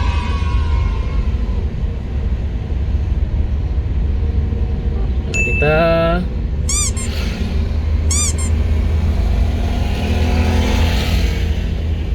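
A car travelling through the city streets of Palembang near Jakabaring Sport City, recorded from inside the car: a steady low engine and road rumble throughout, with a few brief higher whistling or beeping tones partway through.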